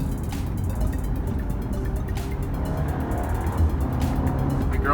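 A 2018 Audi Q5 engine rumbles while driving, its low drone shifting and swelling with downshifts over a steady road roar, heard from inside the car.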